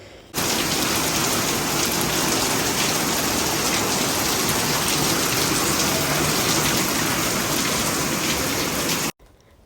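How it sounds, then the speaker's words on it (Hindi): Heavy rain pours down in a steady, dense roar that stays loud and even for about nine seconds before cutting off abruptly. "बारिश की आवाज़ सुनना बहुत सूदिंग लगती है"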